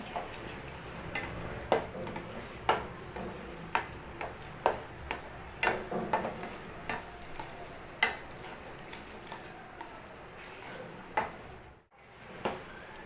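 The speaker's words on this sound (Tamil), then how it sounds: "நெய் சேர்த்து நல்லா மிக்ஸ் பண்ணிக்கலாம்." Carrot halwa being stirred with ghee in a pan, a regular series of close spoon taps and scrapes against the vessel at roughly one-second intervals over a soft sizzling background.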